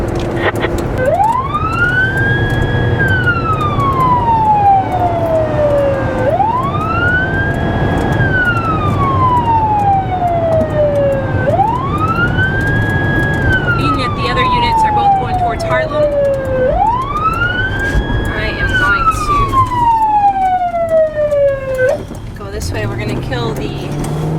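A police siren wails in long rising and falling sweeps, repeating about four times over steady engine rumble, loud and close.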